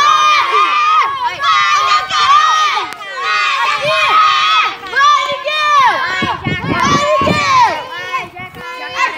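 Children at a camp cheering and shouting together, loud overlapping high voices rising and falling continuously with excited yells and some individual kids calling out.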